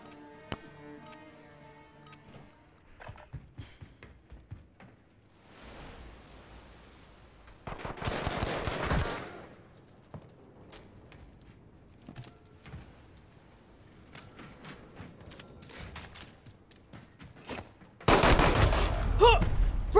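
Rapid gunfire from a Modern Warfare video game gunfight: scattered sharp shots early on, a dense burst of fire in the middle, and a loud, sustained barrage at the end, with faint voices in between.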